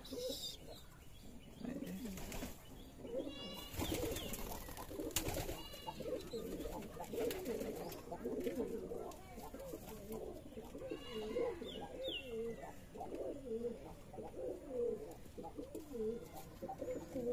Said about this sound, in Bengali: এখানে সকল কবুতর ডাকাডাকি করে।